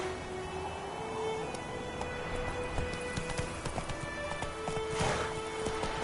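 Hooves of Geralt's horse Roach clip-clop at a trot in The Witcher 3 game, a steady soft rhythm under faint ambient game sound and a brief whinny-like swell.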